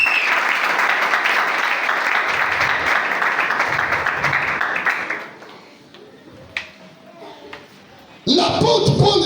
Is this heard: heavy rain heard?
no